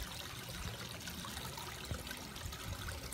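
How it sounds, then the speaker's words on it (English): Water spills steadily over a small weir in a garden koi pond, giving a continuous, even trickling rush of moderate loudness with no voices. "On the underside of this little weir there, you can see that it's blowing or rolling slightly under"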